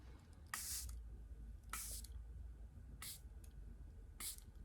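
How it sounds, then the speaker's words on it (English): Charlotte Tilbury Airbrush Flawless Setting Spray is pumped four times, each a short, soft, close hissing mist burst separated by pauses of about a second, with no talk. "And I usually do about 3 or 4 sprays"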